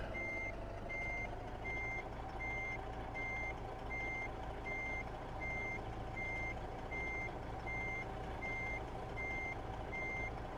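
A truck backing a trailer sounds evenly spaced reversing beeps over a low, steady diesel rumble, with the beeps clear and continuous throughout.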